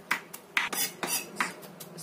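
Knife finely chopping garlic on a cutting board: a quick series of crisp knocks and taps, close and fairly loud, with no talking.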